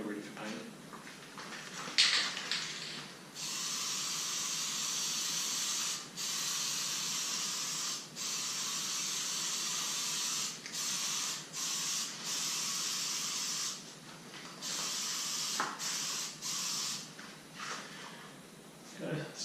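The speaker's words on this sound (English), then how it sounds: "Just going to give it a light coat of primer, one coat" Light single coat of primer sprayed from a can, long loud hissing bursts broken by brief pauses, close to the microphone, with a few soft handling noises between sprays.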